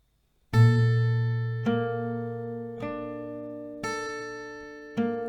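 An acoustic guitar plays part of a song slowly, five ringing notes or chords plucked one at a time, each left to sustain and fade before the next.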